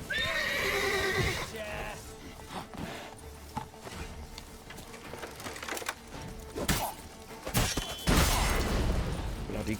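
A horse neighs loudly in The Witcher 3 video game, a clear whinny at the start, followed by hoof clops and sharp combat impacts in the background.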